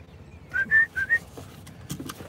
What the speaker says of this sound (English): Starlings all over.